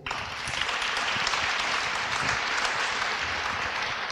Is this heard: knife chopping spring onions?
no